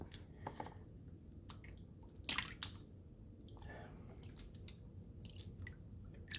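Water washes through the parts of a Suzuki Sirius bass harmonica, lifting the breath savers; soft drips and wet squishes come in scattered bursts at low volume, fairly close.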